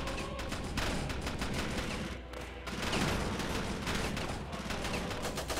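Dense, continuous gunfire from the video game Ravenfield, set in a World War One battle: rapid overlapping shots and bursts that carry loud and steady throughout, with only a brief dip partway through.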